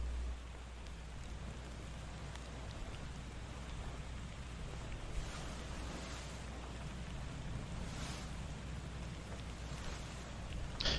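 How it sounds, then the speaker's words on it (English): Steady watery wash of sloshing water in the video game Return of the Obra Dinn, with soft splashes and scattered droplets, continuous and fairly close, no voices. "Be soothed by the sound of the sloshing water."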